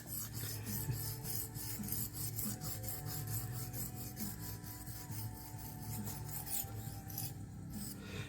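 A small knife is worked freehand across a Norton India stone with light pressure, producing a steady, close rasping scrape in repeated even strokes throughout, with no talk.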